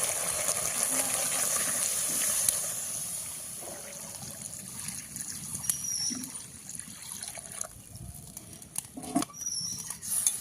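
Water is poured into a cooking pot for a Bengali rohu fish curry, a close, steady splashing and trickling pour that thins out toward the end, with a few small clinks and no talking.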